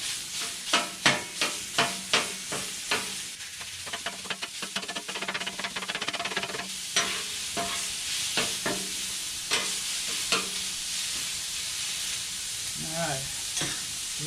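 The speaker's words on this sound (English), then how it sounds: "I have to brown some 80-20 ground beef." 80-20 ground beef browns in a pan at home, giving a continuous close sizzle while a utensil stirs and scrapes it with repeated clacks, with no one talking.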